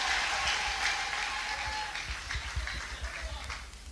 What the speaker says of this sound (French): Applaudissons très fort le Seigneur Jésus.